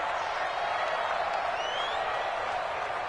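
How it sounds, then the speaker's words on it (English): Stadium crowd noise from a football video game, WFL against the Patriots on a big third down: a steady, dense roar of cheering and clapping holding level throughout, with no commentary over it. "the crowd getting into it as we come up on a big 3rd down"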